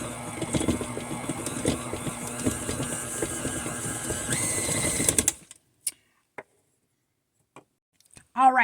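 Stand mixer with a dough hook kneading dinner roll dough in a small kitchen, a steady close motor whir with rhythmic knocking that stops abruptly after about five seconds, followed by near silence and a few faint clicks.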